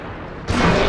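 Tank cannon fire during a World of Tanks Clan Wars battle: a single sudden loud boom midway that swells into a sustained broadband roar of rumbling gunfire, with no voices.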